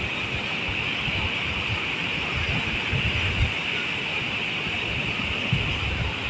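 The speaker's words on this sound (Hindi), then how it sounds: "पीछे लहरें आ रही हैं" Sea waves wash onto a beach during a horse ride along the shore, making a continuous broad roar of surf with faint low thuds and no clear gaps.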